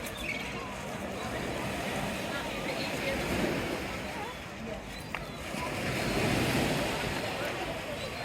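Surf washing onto a busy sunny beach beside a pier, a steady broad wash with swells of breaking waves, mixed with wind noise on the microphone and a faint crowd murmur.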